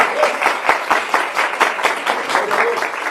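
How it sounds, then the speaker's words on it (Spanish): A church congregation claps for the Lord in a steady, fairly loud rhythmic beat, each clap sharp and evenly spaced, close and without talk over it. "dale la aplauso al Señor"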